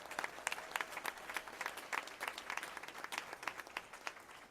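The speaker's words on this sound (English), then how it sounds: "Let's give them a round of applause." An audience applauds a dance team that won honors at a national competition, the clapping steady and dense throughout with sharp individual claps rising above a fairly distant, room-filling wash.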